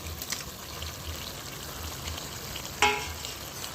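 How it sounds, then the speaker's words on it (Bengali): Fried fish heads drop into a simmering curry of boiled potato and beetroot, a low steady bubbling and sizzle with one sharp clink of a utensil partway through, close and faint. "ভেজে রাখা মুড়োগুলো আমি দিয়ে দিচ্ছি।"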